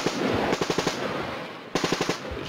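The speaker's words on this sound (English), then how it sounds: "Every time we move, they're shooting at us" Automatic gunfire in combat in the Korengal valley: two loud, close bursts of rapid machine-gun shots, each with about five sharp rounds, separated by a brief pause and with no talking.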